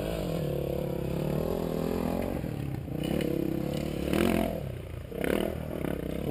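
An off-road motorcycle set up for enduro rides along with a steady engine drone, revving up in two swelling bursts near the end, with some scraping and clatter mixed in.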